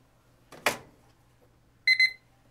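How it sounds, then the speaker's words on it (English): An instant noodle timer goes off with a short burst of high electronic beeps near the end, following a soft clunk, in an otherwise quiet room. "And we are coming right down to the beep."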